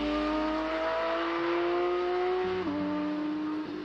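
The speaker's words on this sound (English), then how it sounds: "Even the sound of a Porsche, that raspy flat-six howl, is carefully engineered to stir the soul." A Porsche flat-six engine howls as it revs, rising in pitch with clear tonal harmonics, then drops sharply as it shifts gears and climbs again.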